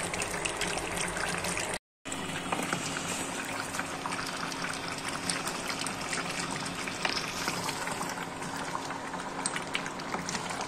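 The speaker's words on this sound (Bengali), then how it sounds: "পানি দেওয়া হচ্ছে" Water is poured steadily into a cooking pot for a duck meat curry, a continuous gushing splash that runs throughout apart from one brief cut near the start.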